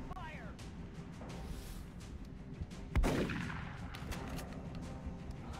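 Gunfire from covering fire in the turn-based strategy game XCOM Long War, a sharp loud shot near the middle of a busy game soundscape with steady background noise and scattered sound effects.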